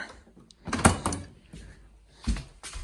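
A shop door swings open and shuts with a couple of distinct knocks and thuds, a sharp clunk near the start and another near the end, with quiet rustling in between.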